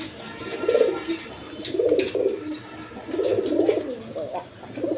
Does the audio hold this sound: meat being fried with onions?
no